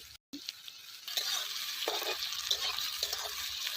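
Turmeric meat cooks on a clay stove, a soft steady sizzle broken by several stirring scrapes at a quiet, close distance, with no talking.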